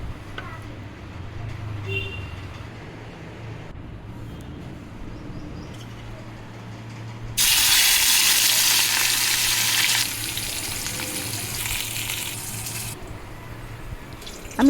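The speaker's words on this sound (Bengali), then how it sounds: "সমস্ত বড়া ভাজা হয়েছে এবার আমি মাছগুলো ভেজে নেব" Low sizzling from fish frying in oil in a pan, swelling into a loud, bright hiss midway before easing back to a steady crackle.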